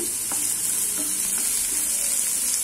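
Green chillies and a small piece of ginger fry in a pan with onions, a loud close steady hiss of hot oil with faint stirring scrapes underneath and no talking.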